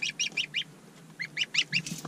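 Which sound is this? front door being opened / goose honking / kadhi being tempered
goose honking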